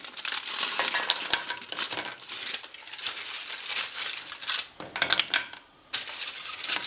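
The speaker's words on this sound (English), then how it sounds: "Just keep working this chocolate into the butter and cream." Chocolate chunks are stirred into simmering butter and cream in a pot, giving busy scraping, clinking and wet crackling strokes that repeat unevenly, with a short pause near the end.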